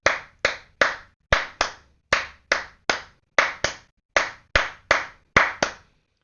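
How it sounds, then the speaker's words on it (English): Hand claps repeating in a cyclic rhythm pattern, sharp and close, with uneven gaps between groups of claps. Around fourteen claps in all, each one crisp and standing alone with no talking. "whenever there's a black dot, I'm going to clap my hands."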